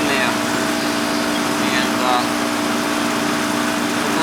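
An 18-year-old Goodman air conditioning unit that is not cooling the house runs with a steady, loud mechanical hum and whoosh, while someone speaks briefly over it.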